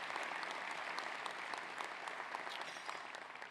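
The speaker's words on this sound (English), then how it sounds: "let's give them all a round of applause" Audience at a sports hall of fame awards event applauding the sponsors, dense sustained clapping from a full room, fairly distant and even, gradually thinning toward the end with no speech.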